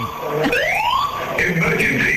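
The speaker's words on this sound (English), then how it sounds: "It sounds like a kind of like techno remix of the old fire alarm system." An electronic fire alarm, sounding like a techno remix, warbles through rising and falling sweeps and pulsing tones, loud and near, with a voice talking over it.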